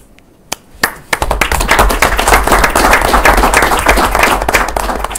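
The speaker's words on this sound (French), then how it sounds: "il faut vous applaudir." A few isolated claps, then a large audience breaks into loud, sustained applause that continues to the end, at a firefighters' collective agreement event.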